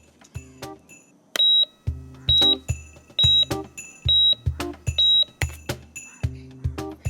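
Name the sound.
electronic machine beeping repeatedly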